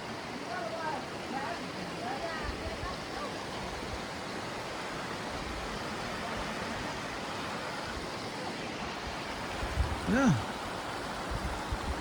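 A river runs past a big rock wall along the Appalachian Trail near Laurel Falls, a steady broadband rushing roar that stays constant throughout, with a brief voice breaking through near the end.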